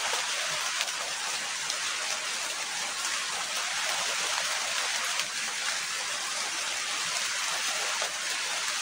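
Steady rain hisses evenly throughout, a dense wash of falling drops with no voices, constant and moderately loud.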